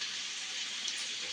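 Water is poured into a bowl to rinse off stuck coconut, a soft, steady trickling wash heard faintly and alone.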